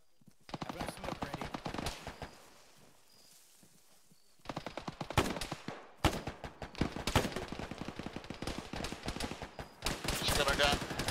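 Bursts of heavy machine gun fire in the ArmA military combat game, rattling in dense, repeated volleys with a brief lull partway through, loud and continuous toward the end.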